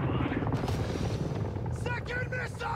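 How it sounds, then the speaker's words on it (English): A loud, steady helicopter rotor thrum fills the clip in Call of Duty: Modern Warfare 2 on PS5, with bursts of combat noise and shouting voices layered over it near the end. "took down our helicopter"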